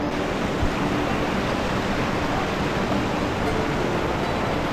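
A water stream running alongside a trekking trail near Kalu Waterfall in Malshej Ghat gives a steady, dense rushing wash of flowing water, unbroken and fairly loud, with no voices.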